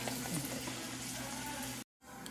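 Bottle gourd rice crackers frying in hot oil, a steady dense sizzle holding at an even level before a brief cut, then resuming.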